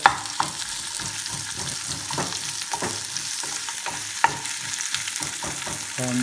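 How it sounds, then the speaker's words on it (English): Sliced onion and four cloves of garlic cooking in a pan for cauliflower and nutmeg soup, a soft continuous sizzle broken by repeated light scrapes and taps of a utensil stirring, close and fairly quiet, no voices. "we'll leave that cooking until the onions become see-through"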